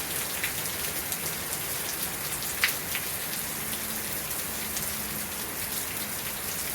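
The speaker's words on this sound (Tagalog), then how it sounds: "Isang linggo itong ulan." Steady rain pours down on a morning in Sydney, Australia, a dense, even hiss of drops on surfaces throughout, with a single sharper splash or knock partway through and faint low murmurs in the background.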